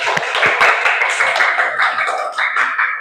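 A classroom of students applauds a classmate with a burst of dense, fast, overlapping hand claps, close and loud, lasting a few seconds without talk.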